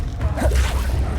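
An Incendio fire spell is cast in Hogwarts Legacy: a single brief, close whooshing burst of flame with a soft rushing tail, over a low game rumble, lasting about a second.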